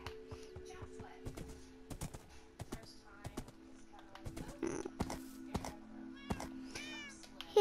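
A cat meows repeatedly in the video game Minecraft, short faint mews scattered over a stretch of quiet keyboard tapping.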